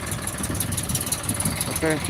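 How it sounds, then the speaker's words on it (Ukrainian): A Dongfeng 404 G2 tractor engine runs steadily at close range, a continuous low rumbling idle with a brief rise near the end. "Ось підготували тракторця на одиночку. Виїхав, зараз будемо відгружати."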